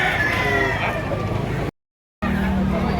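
Roosters at a gamefowl market in Lipa, Batangas, crowing and clucking over a busy background with voices, broken by a brief silent gap before the noise resumes.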